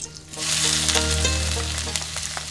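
Chopped onions sizzle steadily in hot oil in a pan for a Moulvibazar-style chicken curry with taro, a loud, close, continuous crackle with no voices.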